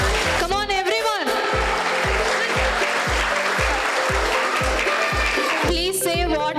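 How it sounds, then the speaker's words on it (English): An audience applauds at a children's annual school celebration, the clapping running steadily beneath loud music with a thumping regular beat, while voices sing or call out near the start and end. "Please make some noise and a big round of applause."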